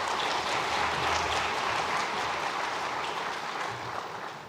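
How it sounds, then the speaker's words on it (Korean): A congregation applauds during a Sunday worship service in a church. The applause is a dense, steady wash of clapping that holds for several seconds and then tapers slightly toward the end. "박수로 한번 격려하겠습니다."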